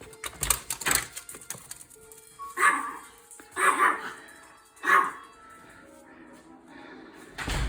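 Two dogs bark outdoors in a few sharp, separate bursts, fairly close, with quieter background noise between the barks and no talking.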